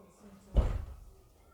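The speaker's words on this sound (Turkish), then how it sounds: "kapı açıldı" A door opens in a video game with one sudden low thud that rings out briefly and fades, moderately loud over quiet background noise.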